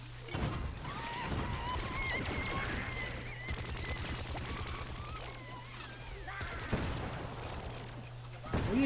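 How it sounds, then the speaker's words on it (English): Gunfire in Plants vs. Zombies Garden Warfare 2 crackles as scattered shots and bursts over a steady game hum, with sharper reports at the start and near the end while players talk. "What are you guys shooting at?"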